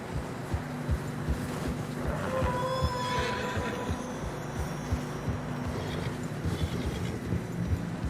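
Horses trudge through deep fresh snow in the Red Dead Redemption 2 video game, whinnying and neighing over a steady, uneven clop of hooves close by.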